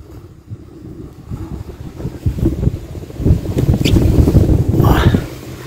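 Strong outdoor wind buffets the microphone in low, gusty roars that swell and build toward the end before dropping away, with no talk over it.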